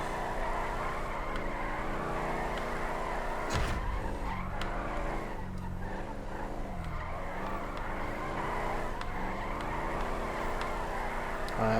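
A car drifts through corners in GTA V, tires squealing and skidding over a steady engine roar, loud and continuous with a sharp burst of noise partway through.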